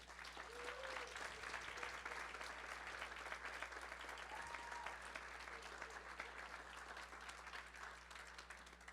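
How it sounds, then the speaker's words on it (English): An audience applauds a group of kids at an event with sustained, even clapping heard somewhat faintly at a distance over a low steady hum. "Can we give them a round of applause?"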